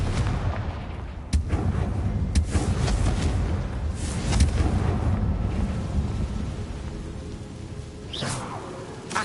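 Confringo blasting spell from Hogwarts Legacy, a series of booming game explosions with sharp cracks and whooshing bursts over a rumbling low roar, loud and close.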